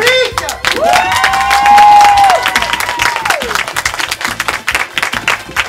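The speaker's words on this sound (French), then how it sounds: "on va pouvoir commencer par applaudir une fois n'est pas coutume le public" A theatre audience applauds at the start of a comedy sketch show, with cheers and whoops mixed into the clapping. A long sustained tone rises above the crowd near the start, and the applause breaks into more scattered bursts toward the end.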